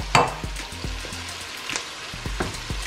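Ghana turkey stew sizzles steadily in a pot, a close, continuous frying hiss broken by scattered pops and bubbling crackles, with no talking.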